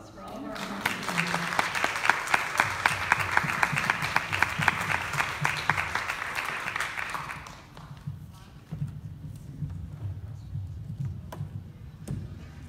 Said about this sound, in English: if we can get a round of applause for all of our audience